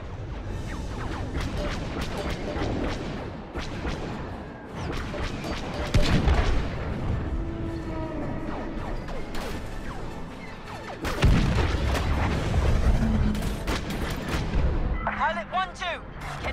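Blaster and cannon fire rattles at a ship during a space battle in the video game Star Wars Battlefront 2, with dense bursts of shots, booms and crashes throughout, loud and continuous.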